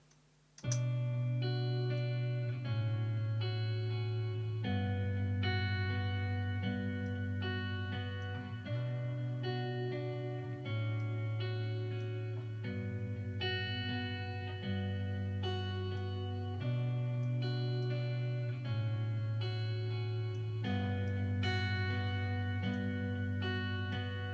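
A looping synth or keyboard pattern with steady bass notes and a gritty, saturated tone from a distortion plugin, playing continuously and loudly without any voices.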